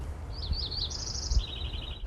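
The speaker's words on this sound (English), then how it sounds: "the birds singing" A bird sings a short series of high, warbling chirps and trills that rise and then step down in pitch, over a soft low rumble in the background.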